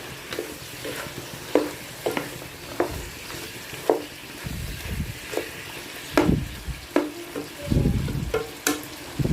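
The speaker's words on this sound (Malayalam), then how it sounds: "ഇതൊക്കെ നമുക്ക് പൊരിച്ചെടുക്കണം" Meat sizzling as it fries in a pan of coconut oil for a Kerala-style dish, with a low steady hiss broken by repeated stirring scrapes and clatters of a utensil, close up and with no voices.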